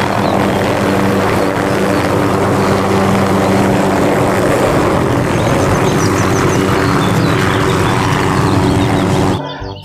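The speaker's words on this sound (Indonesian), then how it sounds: "Yang ini ada helikopter." A toy helicopter whirs with a loud, constant rotor-like drone, close and unbroken for nearly ten seconds before cutting off abruptly.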